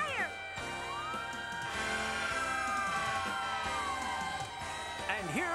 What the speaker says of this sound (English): And here come the ambulances.